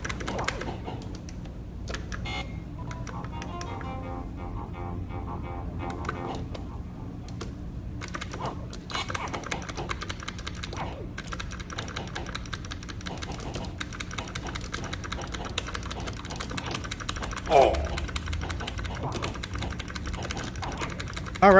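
Buttons on an Arcade1Up Gauntlet arcade cabinet clicking rapidly and irregularly during gameplay, a dense stream of crisp plastic clicks over the game's background audio, close and fairly loud.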